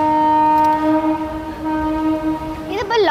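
A train passes close by, its horn sounding a loud, sustained chord over the rumble of rail cars, then bending in pitch near the end.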